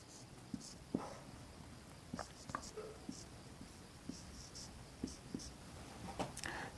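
Chalk or marker writing numbers and symbols on a board during an addition lesson, faint scattered taps and strokes over a quiet room hiss, with no one talking.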